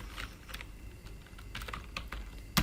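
Steady typing of C++ code on a computer keyboard, a quick run of close key clicks with a louder key strike near the end.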